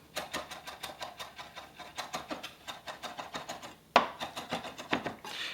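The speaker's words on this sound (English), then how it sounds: "Smash it with your knife like you would, a piece of garlic, and then just mince it up." Knife mincing smashed fresh ginger on a cutting board, brisk rhythmic chopping taps in quick repeated bursts, close and fairly loud, with no speech.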